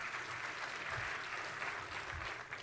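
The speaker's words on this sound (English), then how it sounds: "the entire room stood up applauding" A standing audience applauds at the Build 2017 tech conference session on Azure Compute, making a dense, steady wash of clapping that fills the room throughout.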